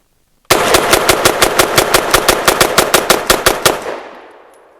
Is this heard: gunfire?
yes